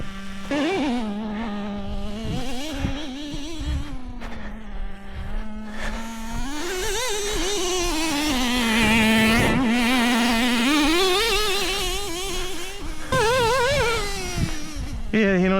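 A small nitro RC car engine runs close by, a buzzy high-pitched whine that idles unevenly, then revs and bogs repeatedly as the throttle rises and falls, steady and loud throughout.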